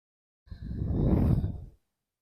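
One long, breathy exhale during a yoga session, close and fairly loud, swelling and fading over about a second and a half in an otherwise quiet room.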